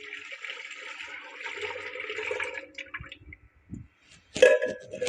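About 1.5 litres of milk poured into four eggs for a milk halwa, a steady close liquid pour that thins out into a few trickles and splashes.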